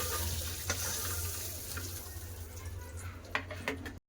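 Potato and pointed gourd pieces sizzle in hot oil in a pan, a steady crackling fry punctuated by a few sharper pops, with a voice faintly present.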